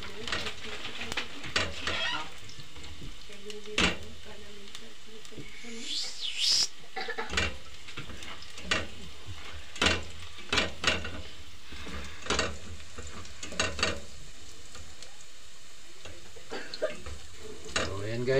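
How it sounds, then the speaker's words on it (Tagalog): Lechon paksiw meat browning in a pan with garlic, a soft steady sizzle with occasional scraping and stirring knocks, fairly quiet throughout. "Medyo pag-brownin lang natin ng konti."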